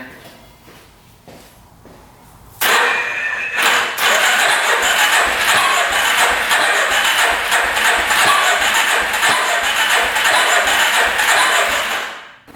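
A UTV engine cranks without firing after 700 miles, first faint knocks, then a loud sustained churning roar from about 2.6 seconds to near the end, with irregular pops and backfires on top.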